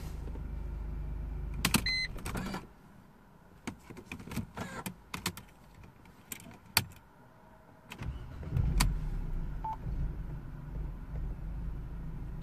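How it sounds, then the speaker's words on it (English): Clicks and clunks inside a Mercedes C180 Kompressor with an air flow meter fault, then the engine starts and settles into a low, steady idle rumble that continues to the end. "let me restart the engine again"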